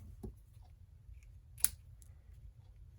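A single quick snip of scissors trimming the tails of a ribbon during a Stampin' Up! papercraft project, a short sharp cut over a quiet room hum.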